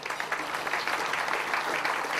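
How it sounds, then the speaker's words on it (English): An audience at an open source contributor awards ceremony applauds steadily, a dense, even wash of clapping that holds throughout. "a round of applause for Grant,"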